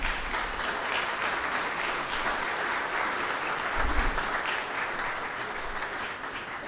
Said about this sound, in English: Would y'all please give them a little recognition clap?